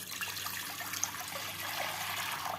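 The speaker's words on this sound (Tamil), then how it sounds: "ஒரு பாத்திரத்தில் தண்ணி ஆட் பண்ணிக்கோங்க" Water poured into a cooking pot for making noodles, a steady splashing trickle at moderate level, continuous and close, with no talking.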